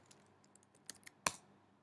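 A few scattered computer keyboard keystrokes during setup on an Ubuntu system, faint and sparse, with a single sharper click standing out near the end.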